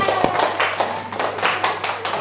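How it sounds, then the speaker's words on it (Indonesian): Classroom applause from students, a burst of clapping that carries on steadily for about two seconds at moderate loudness, with some faint voices underneath. "Kasih tepuk tangannya."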